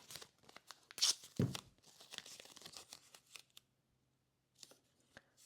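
Masking tape being torn and pressed onto long walnut box pieces, with quick ripping bursts and crinkling handling close by, then a brief pause before softer taps.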